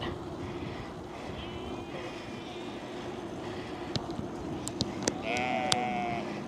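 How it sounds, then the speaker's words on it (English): Sheep bleat now and then across an open field in the Netherlands over a steady low rumble from a moving bike, with a few sharp ticks of insects hitting. "Lots of sheep around."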